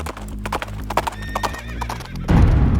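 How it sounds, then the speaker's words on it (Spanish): Horse hooves clip-clop in a quick, steady rhythm as a general rides on horseback, with a short whinny and rising rumble near the end. "el general Wool decide cabalgar hacia donde se encontraba Santa Anna"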